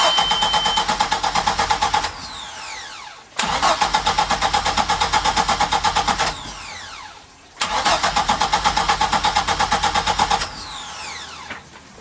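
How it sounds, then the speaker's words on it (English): A boat engine, winterized with its fuel supply cut and out of gear, is cranked three times by the starter, each loud whirring burst lasting a couple of seconds with short pauses between, no voices. "we'll just crank the engine a couple times"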